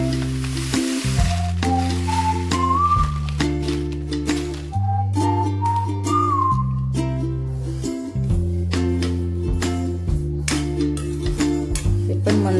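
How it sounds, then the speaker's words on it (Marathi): Sesame seeds roasting in a pan over a low flame give off a steady, faint sizzle beneath loud background music that dominates the whole stretch. "त्याच्यात तीळ भाजून घेते मी।"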